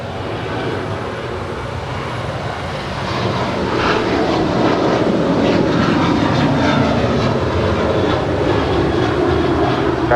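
An airliner takes off from runway 25 right at LAX, its engine roar building into a loud, steady, broadband rumble that holds for several seconds, heard from nearby with no voices.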